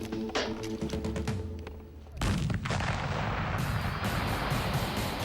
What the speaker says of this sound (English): take a stick of dynamite and a jerry can full of petrol and let her rip